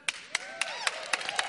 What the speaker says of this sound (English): Well, we'll hold your applause.